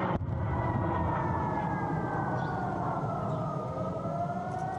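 Air raid sirens wailing in southern Israel during rocket fire, a loud, sustained drawn-out tone that slowly falls in pitch, sounding steadily without break and with no voices.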